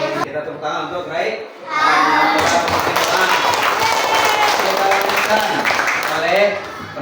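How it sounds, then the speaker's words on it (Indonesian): A classroom of young children claps together for a classmate, a dense burst of applause that starts abruptly and carries on with children's voices mixed in. "Kita tepuk tangan untuk Rai."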